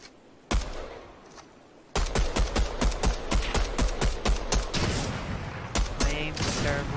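Rapid pistol gunfire in a video game cracks out in a dense, close burst of repeated shots after a single opening report, loud and fast-paced.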